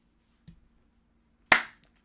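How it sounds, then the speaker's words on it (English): A single sharp clap rings out after a faint earlier tap, then a small trailing tap, isolated against near silence. "more claps"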